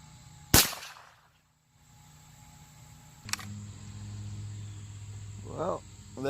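Two sharp, loud cracks from .22 LR #12 bird shot shotshells, Federal and CCI, are fired at targets 7 yards away. The shots are a few seconds apart, each ringing out briefly over quiet outdoor background with faint insects.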